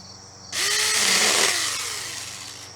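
A battery pruning saw cuts through a one-inch-thick branch in a single close, loud buzzing burst lasting about two seconds, its motor pitch sagging as it slows.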